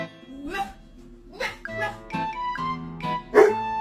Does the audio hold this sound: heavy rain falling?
no